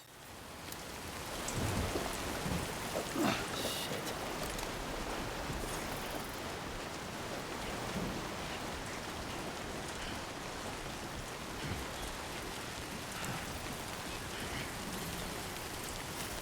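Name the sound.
timefall rain in the video game Death Stranding 2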